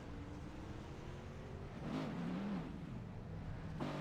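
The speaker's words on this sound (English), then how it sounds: "Car still running" A racing car's engine keeps running after a spin on a left-turning oval circuit in a racing video game, a steady mid-level drone with a brief rising rev, heard alone without talk.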